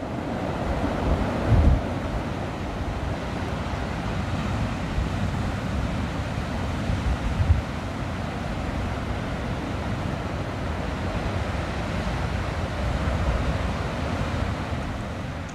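Broad, steady wash of surf at the seashore, waves rolling in continuously with a constant low rumble and some wind, no voices.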